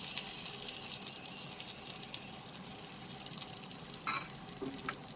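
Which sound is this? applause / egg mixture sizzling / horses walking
egg mixture sizzling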